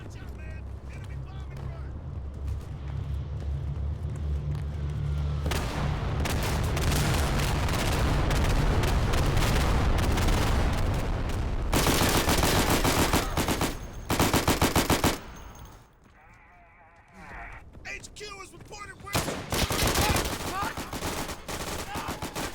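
An M3 grease gun submachine gun fires in Day of Infamy, a World War II shooter, in loud rapid automatic bursts mixed with more distant gunfire and battlefield rumble. It drops out briefly near the end before the shooting resumes.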